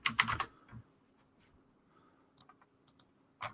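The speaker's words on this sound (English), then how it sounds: "Hopefully my typing isn't too loud here. I got, unfortunately, a little bit loud of a keyboard." Clattering keystrokes on a loud computer keyboard: a dense burst of rapid typing at the start, then sparse scattered clicks and a final cluster of taps, close up and alone.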